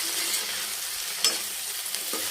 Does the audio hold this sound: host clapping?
no